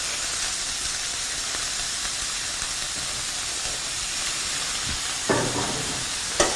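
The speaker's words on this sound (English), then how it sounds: "we're going to take some of our green beans that we have blanched, and we're going to put them right in the saute pan" Blanched green beans sauté in a pan with onions and tomatoes, giving a steady close sizzle and hiss. Two brief clatters near the end come as the pan is handled.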